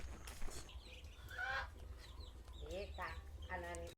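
Chickens cluck and crow on a rural farm near Vientiane, Laos, where ducks, geese and rabbits are also kept; the bird calls come close and fairly loud in several short bursts, with low background rumble and some voices mixed in.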